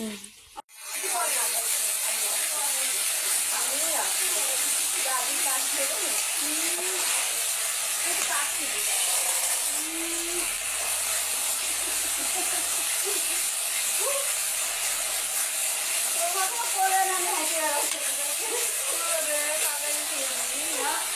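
Curry being sautéed in a pan, a loud continuous hissing sizzle that runs throughout, with a voice speaking over it now and then.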